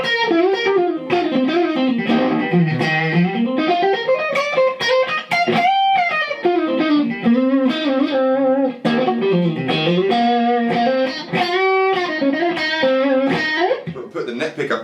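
A distorted electric guitar plays a melodic line with bends and sustained notes, gritty and loud, with a few brief pauses between phrases.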